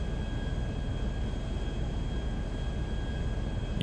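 A HondaJet HA-420 jet modded into GTA 5 holds a steady, continuous engine roar with a thin high whine running through it, even and loud throughout with no talk.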